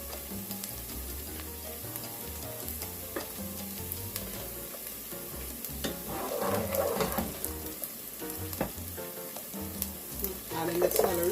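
Harder vegetables and celery sauté in a hot pan for a Caribbean spinach callaloo with crabs, giving a steady crackling sizzle with stirring scrapes that swell louder toward the end.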